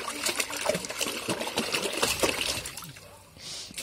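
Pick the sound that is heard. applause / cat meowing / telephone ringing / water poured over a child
water poured over a child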